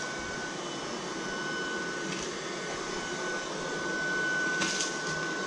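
A Tineco A10 cordless vacuum fitted with a crevice tool runs in normal mode, giving a steady, fairly quiet airy whir with a faint tonal hum.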